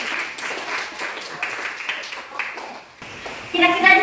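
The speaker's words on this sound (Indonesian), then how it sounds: "Kita tepuk tangan buat kalian dulu." A classroom of students claps together in applause, a dense steady patter that swells louder near the end, with voices mixed in.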